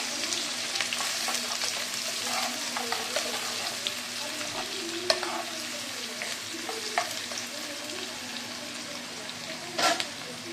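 A handful of small sambar shallots frying in a pan for vathal kuzhambu, a soft continuous sizzle with occasional spatula scrapes and clinks, fairly quiet and close.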